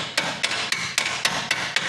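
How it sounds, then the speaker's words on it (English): A small, light hammer tapping a bolt out of the upper knuckle on a fifth-generation Camaro: eight sharp, evenly spaced metallic taps at a steady rhythm, close by and loud, with no talking. "Little dainty hammer."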